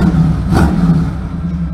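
A Ford car with a Cleveland 5.8 V8 revs at a Ford performance day at the Vairano circuit, giving one sharp, loud throttle blip over a steady, close, rumbling idle.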